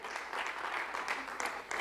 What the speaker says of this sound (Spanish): Puedes dar un aplauso al Señor.